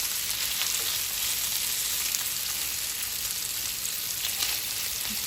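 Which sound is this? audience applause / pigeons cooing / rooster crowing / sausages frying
sausages frying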